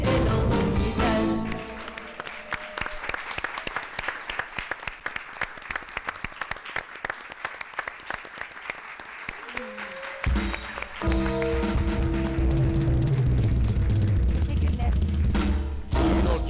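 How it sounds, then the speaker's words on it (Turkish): A concert audience bursts into loud, sustained applause after a song performance on a Turkish TV show with an orchestra, dense clapping swelling and continuing before music and voices return near the end. "o coşkulu, o büyük alkışları her zaman hak ediyor"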